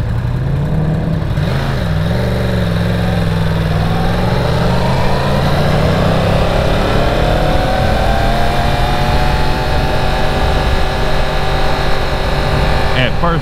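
A 2018 Yamaha R1 sport motorcycle engine at speed on a regular road, a loud steady drone with pitch rising and falling as revs change, wind noise throughout.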